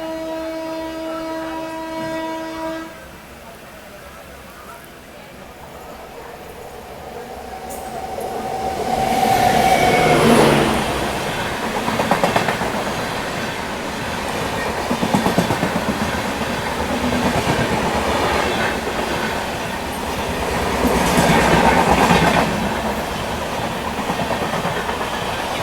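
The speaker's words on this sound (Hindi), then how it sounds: "सामने देखिए एक ट्रेन जो आ रही है" A passing train crosses on railway tracks during a general coach journey from Lucknow to New Delhi, beginning with a horn-like tone, then a long rumble with swelling surges and rhythmic clatter as it rolls by close and loud.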